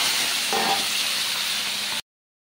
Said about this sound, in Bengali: এঁচোড়টাকে এখন ভেজে নেব।